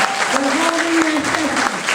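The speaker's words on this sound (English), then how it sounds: "Let's give them a round of applause." A brief burst of audience clapping at a fifth-grade graduation, a crowd applauding teachers while a voice talks over it, the clapping loud and continuous beneath the speech.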